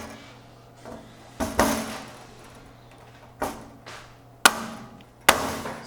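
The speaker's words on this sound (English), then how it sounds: "Just line up your center rivet, rivet that in place." Rivets are set while a strutless adjustable rear wing is installed on a 1994-98 SN95 Mustang, heard as a series of sharp metallic snaps and pops, about five distinct close hits spaced unevenly.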